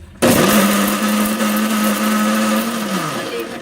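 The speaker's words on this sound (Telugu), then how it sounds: "ఒక్కసారిగా ఎక్కువసేపు మిక్సీ వేయకూడదు." A kitchen mixer grinder whirs loudly and steadily for about three seconds while blending ridge gourd for pickle, starting abruptly and holding a constant motor drone before winding down slightly at the end.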